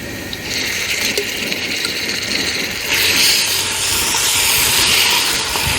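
Garlic ginger paste hits hot oil with browned onions, giving a loud hissing sizzle that swells and intensifies after a few seconds.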